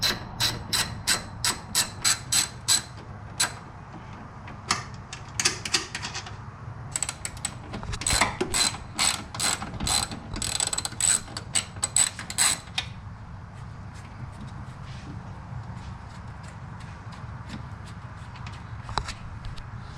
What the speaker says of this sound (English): So what's going to make it easier is if we move this and loosen these so that I can get the bottom bolt out